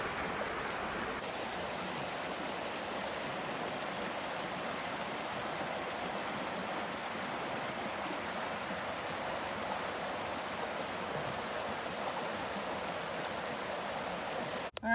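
Water in a creek within a nature preserve rushes steadily, a constant close broadband babble that stays even throughout with no voices.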